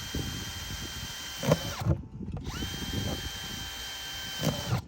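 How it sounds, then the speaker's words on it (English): A power drill whines steadily, briefly stopping and starting again, with grinding bursts as the bit bites into the bottom of a plastic bucket, drilling drainage holes. "I'm going to be drilling some holes in the bottom of the bucket."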